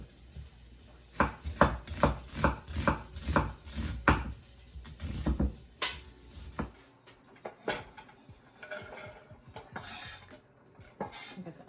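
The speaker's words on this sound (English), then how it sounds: "Now we're cutting up the onion" A knife chops onion on a board in a run of quick, sharp, close knocks, then slower scattered taps and cutlery clinks follow.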